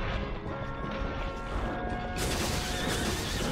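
A horse neighs loudly in a Bloodstained: Ritual of the Night gameplay scene, a long whinny over dense game noise that shifts into a brighter, crashing sound partway through.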